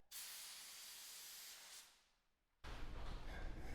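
Paint spray gun hissing on a tight bullet pattern while a Kawasaki motorcycle gas tank is painted, a steady close spray that fades, pauses, then bursts back loud.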